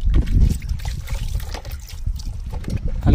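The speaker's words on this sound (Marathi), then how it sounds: "विहिरीतनं पाणी वगैरे काढून भांडी घासत आहेत लोक" Water splashes and trickles steadily as it is poured from a vessel while people wash dishes at a well during a camping trip near Matheran, close and continuous.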